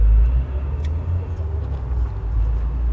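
A Dongfeng minibus with a 1.6 engine idles nearby, a loud, steady low rumble with a slight, uneven throb.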